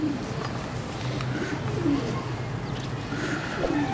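Several pigeons, including a caged breeding pair offered for sale, coo in low repeated phrases against a steady murmur of background noise, with no one talking.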